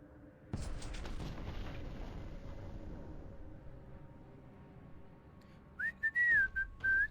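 A single heavy gunshot booms in the Warhammer 40,000: Boltgun game, with a sharp onset and a long rumbling decay, followed near the end by short whistling tones.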